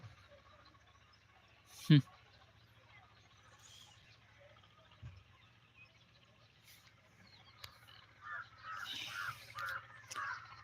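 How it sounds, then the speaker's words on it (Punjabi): Quiet outdoor ambience over a low steady hum, a sharp knock early on, then a burst of bird calls and crow-like caws near the end. "ਪੰਛੀ ਤਰ੍ਹਾਂ-ਤਰ੍ਹਾਂ ਦੇ ਚਹਿਚਹਾ ਰਹੇ ਨੇ ਉੱਡ ਰਹੇ ਨੇ"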